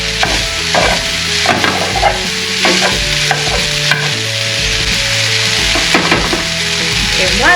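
Chorizo mince sizzles and fries steadily in a pan, a loud close crackle with repeated stirring scrapes throughout and no voices.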